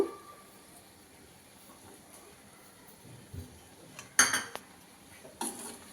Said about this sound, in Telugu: బాగా కలుపుకున్నాను